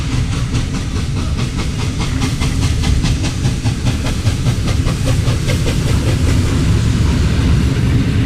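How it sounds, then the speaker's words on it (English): A Hungarian class 242 steam locomotive rumbles past with rhythmic chuffing and hissing steam, loud and close, wheels clattering steadily throughout. "The 242s were the fastest Hungarian steam locomotives of all."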